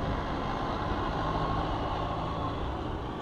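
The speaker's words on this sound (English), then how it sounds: "I couldn't hear you over the tractor." Tractor engine running close by outdoors at an open-air gathering, a steady low rumbling drone that holds evenly throughout with no voices over it.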